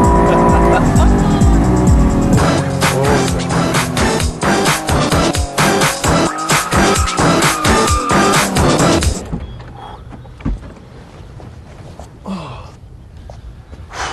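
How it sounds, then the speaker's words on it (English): A car drifts with its tires squealing loudly and continuously over roaring engine noise for about nine seconds, then the screech cuts off, leaving quieter rumbling and faint voices. "We are drifting, we are fully drifting."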